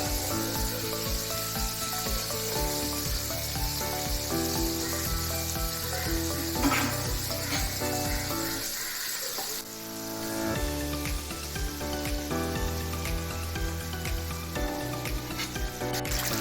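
Small chicken pieces frying in a little oil for homemade broasted chicken, making a steady, bright sizzle and spatter that runs throughout beneath background music.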